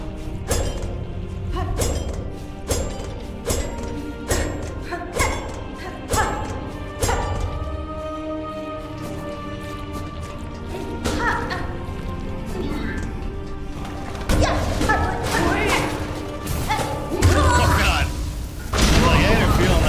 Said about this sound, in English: I keep forgetting some of those guys are exploding.